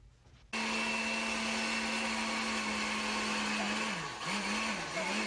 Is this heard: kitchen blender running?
yes